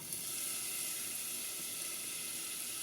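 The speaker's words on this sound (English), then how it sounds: "I've heated my pot, tablespoon of oil. And what we're going to do is we're going to saute our onions" Onions sautéing in a tablespoon of oil in a heated pot, giving a steady, soft, even sizzle throughout with no talking.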